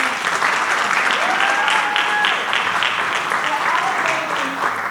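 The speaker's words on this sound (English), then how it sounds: "So let's give Cooper Point a round of applause." Applause fills a school advisory board meeting in Camden, a steady dense clapping from the room that holds for the full stretch, with a voice or two briefly audible over it.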